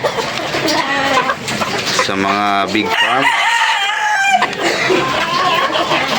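Chickens and hens clucking and a rooster crowing in a busy farmyard, with someone talking over the birds throughout.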